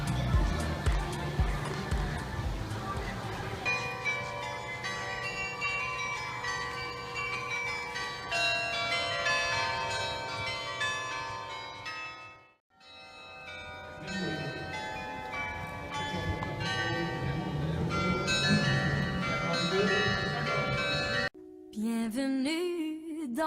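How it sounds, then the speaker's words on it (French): Carillon bells of Saint-Quentin ring out for the 5 pm hour, a long, loud, continuous peal of overlapping tuned bells with a brief break midway, then music begins at the end. "ça va être les carillons de Saint-Quentin que vous allez entendre dans un instant pour les 17h."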